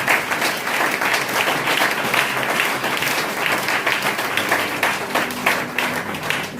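A church congregation applauds in praise of the Lord, sustained loud clapping from a large crowd throughout, with a voice faintly audible beneath it.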